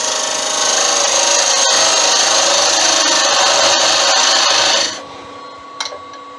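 Wood spins on a lathe as a tenon is cut, giving a loud, steady abrasive hiss for about five seconds before the cutting stops abruptly, leaving a quiet hum and a couple of faint taps.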